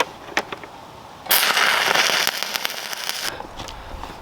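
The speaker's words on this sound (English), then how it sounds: "I'm going to get one tack and then I'll bend it to where I want it, and then we'll finish up welding it." A MIG welder tacks steel, a loud close crackling buzz lasting about two seconds, with quieter scattered pops before and after.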